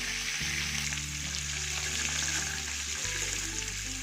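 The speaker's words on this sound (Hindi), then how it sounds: "और आराम से हमने इसको फ्राई करना है ताकि स्लाइस टूटे ना" Masala-coated fish slices frying gently on a tawa, a steady close sizzle over a constant low electrical hum, with faint stirring or water sounds and no speech.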